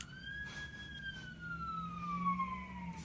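An emergency vehicle siren wails outside, heard indoors at moderate distance, its steady rising and falling tone drifting slowly lower as it passes, with a low vehicle rumble beneath and no talk.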